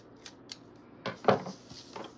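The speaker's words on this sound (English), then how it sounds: "And I'm going to cut this sticker in half." Scissors cutting a sticker in half, a few quiet close snips and crisp slicing sounds over about a second, with no talk.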